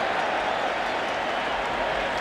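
A baseball stadium crowd of more than 50,000 roars steadily, the fans up on their feet at a California Angels–Seattle Mariners game. The dense cheering stays loud and even throughout, with no distinct voices standing out.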